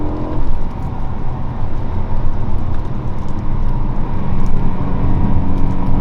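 A BMW E92 M3's V8 engine accelerates hard on a track, a loud, continuous roar that stays close and steady throughout with no talk over it.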